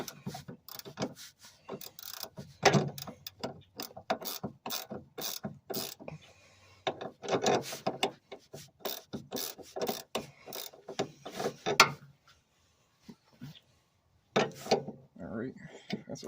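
A wrench ratchets and clicks on bolts of a 1986 300ZX's suspension bushings, in irregular bursts of metallic turning and rubbing with short pauses and a quiet gap near the end, and no talking.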